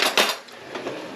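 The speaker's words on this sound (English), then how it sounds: "you just give it a good stir through with a spoon" A spoon clinks and scrapes against a bowl while stirring a chicken tetrazzini mixture, with a few close, bright metallic taps and scrapes over about a second.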